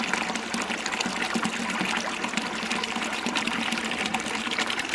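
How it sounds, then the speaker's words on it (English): Water rushes into the drive pipe of a ram pump that is being restarted after a long winter, a continuous loud gush with a steady churning texture and no voices. "Once it reaches that drive pipe, the water will start going in there and filling up the ram pump."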